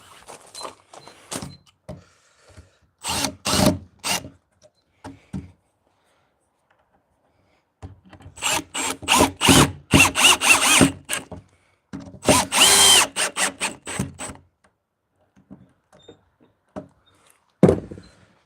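A power drill drives 50 by 5mm stainless steel screws into a wooden folding bench in short whirring bursts, several near and loud runs separated by silent gaps, ending with one brief final burst.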